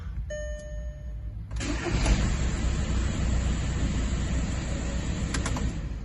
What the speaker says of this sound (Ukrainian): Volkswagen Caddy в нас запускається добре, працює добре